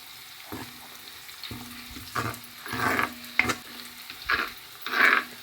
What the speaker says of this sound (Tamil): எல்லாம் நல்ல மெதுவாக வதங்கட்டும்